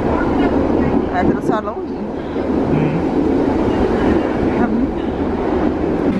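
A train running through a rail tunnel near Dublin, a loud, steady rumble that fills the whole stretch with faint rail squeals, while someone talks over it nearby.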